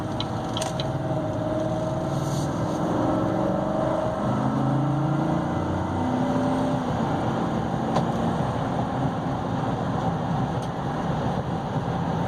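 A 2017 GMC Sierra Denali pickup with a 6.2 V8 and 4x4 climbs a hill, its engine giving a steady, droning hum over continuous road and cabin rumble, with no talking.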